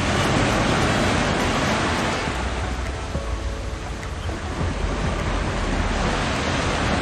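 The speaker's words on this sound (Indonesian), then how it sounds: "ini ombaknya gede" Big ocean waves break and surge along a rocky coast, a loud continuous roar of surf and rushing water with wind buffeting the microphone throughout, and no one speaking.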